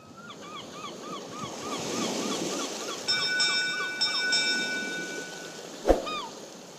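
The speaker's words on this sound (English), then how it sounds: "You can hear the birds chirping" Birds chirping in the morning outdoors near a boat build, repeated short calls with a few longer whistled notes, fairly distant over a soft wind-like background, with one sharp knock near the end.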